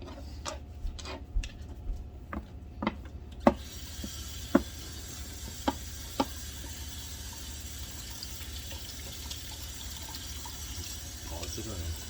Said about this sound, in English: You guys don't need to watch me cutting this thing.